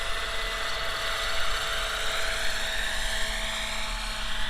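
A large 800-size Roban EC130 scale RC helicopter with a Fenestron tail flies, producing a steady, loud, high rotor and turbine-like whine that continues without a break.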